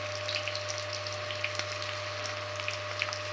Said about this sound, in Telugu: ఇలా బాగా ఫ్రై అవ్వాలి ఇలా ఫ్రై చేసి తీసుకోవాలి